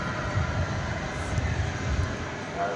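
Distant Turkish Airlines airliner at DFW Airport on a breezy, steamy evening, a steady low engine rumble and roar that holds throughout with wind noise over it.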